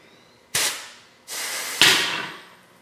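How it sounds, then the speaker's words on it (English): Three sharp, loud blasts of compressed air forced through the top transmission cooler hose, each a sudden hiss that tails off, spaced about a second apart with no talk. "We're going to blow with some compressed air through the top one"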